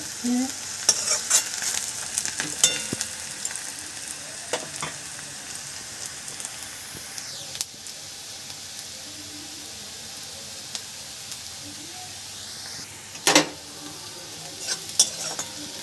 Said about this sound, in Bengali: এই যে পেঁয়াজটা ভাজা হয়ে এসছে